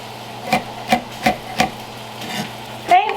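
A knife chops a jalapeno on a cutting board in a home kitchen while chili is being made, giving four or five evenly spaced, close knocks followed by a brief scrape.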